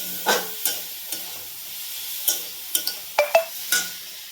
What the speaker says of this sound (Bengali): তাই পেঁয়াজটা এখন নাড়ি